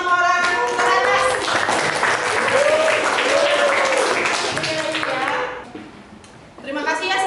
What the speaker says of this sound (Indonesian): tepuk tangan untuk 5 orang teratas